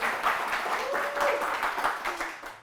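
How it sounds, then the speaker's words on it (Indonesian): An audience applauds a guest named Vita at a Yogyakarta health talk show, with steady clapping that fades toward the end and a voice speaking over it. "Tepuk tangan ini Vita ya."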